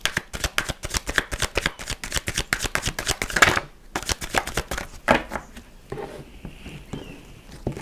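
Tarot cards are shuffled by hand in quick, crisp riffling bursts, close and fairly quiet, with a brief pause partway before softer shuffling resumes.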